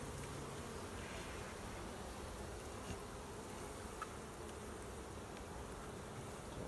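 Honeybee drones buzz across the bottom of a brood frame lifted from an overwintered colony, a dense, steady, close hum holding level throughout with no speech.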